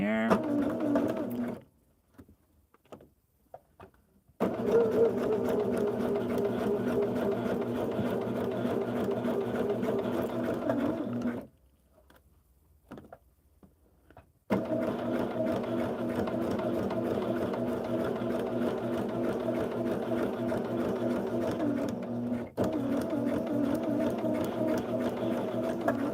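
A sewing machine stitches quilt pieces together in long, steady, close-up runs. Two clear pauses break the stitching, and speech is faintly present.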